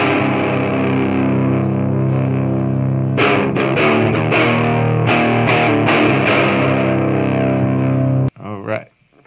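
Heavily distorted electric guitar chords through a DOD Boneshaker distortion pedal set high, sustained then strummed rhythmically, thick and buzzing, cutting off abruptly with a short noisy tail.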